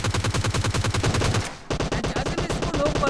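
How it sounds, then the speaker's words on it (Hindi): Rapid enemy gunfire in the battle royale game PUBG Lite, a steady rattling stream of close, loud shots that breaks briefly and resumes with another fast burst. "सामने की साइड से एक बंदा गोली चला रहा था।"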